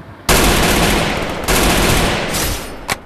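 Sustained bursts of rapid automatic gunfire in the Free Fire mobile shooter game, loud and dense, with a brief pause around halfway and a short sharp shot near the end.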